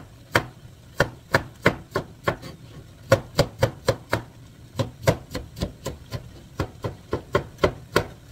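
A knife chops cucumber on a cutting board in quick, even bursts of sharp close knocks, about two dozen strikes in a steady rhythm with short pauses between runs.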